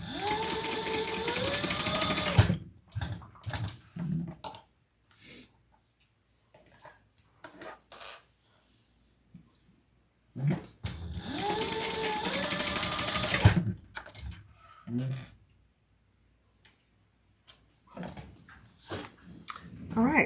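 A sewing machine basting the sides of a small crossbody bag runs in two loud, steady bursts, with speech and quieter handling noises filling the gap between them.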